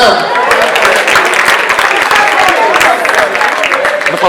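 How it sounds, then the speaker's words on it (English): Sustained, loud audience applause at a public financial management awards ceremony for municipal assemblies, dense clapping that continues evenly throughout. "Please clap for them."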